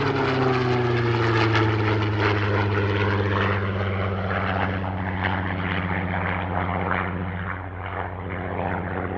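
Supermarine Spitfire PR.19 propeller warbird at the Meaux airshow passes with a deep droning engine note that slides lower in pitch as it flies by, loud and sustained, then fading slightly.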